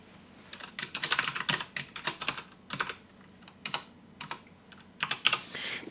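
Rapid, uneven bursts of clicking keystrokes as number values are typed on a computer keyboard while setting up a 3D-printed magnetic hose connector design; close and clear, with short pauses between runs of keys and no talk.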